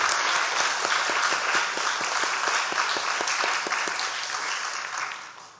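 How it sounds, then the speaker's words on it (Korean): A congregation applauds during a Sunday church service, loud sustained clapping from many hands with a few distinct claps standing out, tapering off gradually at the end. "그분들에게 우리 감사하다고 큰 박수 치실까요?"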